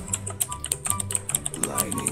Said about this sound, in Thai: ไม่เสียงคีย์บอร์ดใครวะ